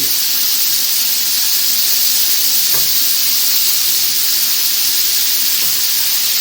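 Mince bolognese sauce, with a still partly frozen bit of mince in the mix, bubbling and sizzling steadily in a pan, a continuous close hiss with no talk.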